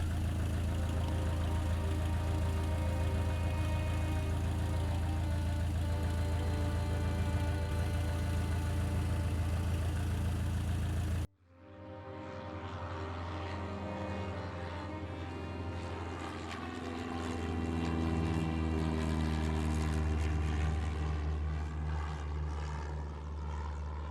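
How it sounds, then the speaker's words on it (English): US Air Flight 5481 taking off, a steady, loud engine roar that shifts in tone midway and then holds a sustained drone, with no talking. "Shortly after 8:46 a.m., they began their flight and lifted off."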